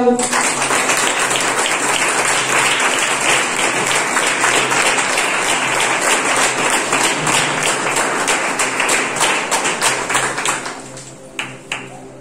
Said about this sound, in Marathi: जोरात टाळ्या वाजवूया